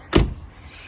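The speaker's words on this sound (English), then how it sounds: "So I'm going to close this door" The door of a 2009 Jaguar XJ8 shuts with a single solid thud close by, and the sound fades quickly into quiet.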